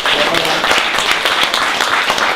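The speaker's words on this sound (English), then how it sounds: "Please round of applause for Gerard." An audience at a Brixton interview event claps steadily in a dense, even wash of applause that fills the whole moment, with some talk mixed in.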